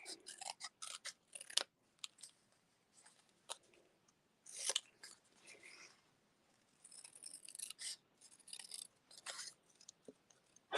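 Scissors snip through ribbon during papercraft work in a quiet room, giving quick faint clipped cuts in irregular bursts with pauses between them and no voices.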